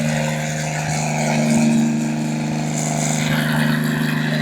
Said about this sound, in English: Warm it up a little bit, see what happens.